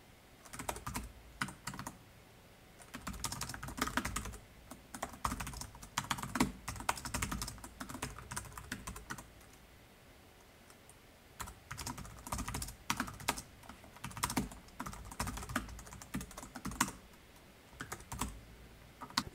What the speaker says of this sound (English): Let me just type it out and then I'm going to explain everything.